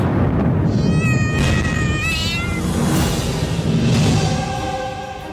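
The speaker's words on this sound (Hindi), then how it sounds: "अरे ये बिल्ली फिर आ गई। देखो कैसे रो रही है।" Domestic cat meowing and crying in a series of wavering, drawn-out wails, fairly close and loud over a steady background rumble, with no talking.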